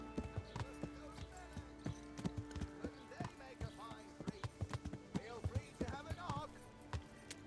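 Horse hooves clip-clopping in the video game Kingdom Come: Deliverance: a steady trotting rhythm of sharp hoof beats over a game soundscape with music, while someone talks over it.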